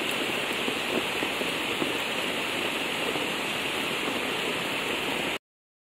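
Steady, dense rain pours down on a rural farm in the provinces, a continuous hissing wash of drops on surfaces that holds an even loudness throughout with no voices, then cuts off abruptly near the end.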